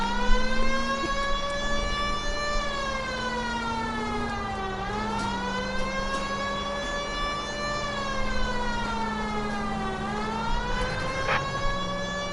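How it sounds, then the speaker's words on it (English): A police car siren in the LA Noire video game wails steadily, rising and falling in long slow sweeps over a low engine drone, with no talk. "If you're gonna drive like this, at least use a siren."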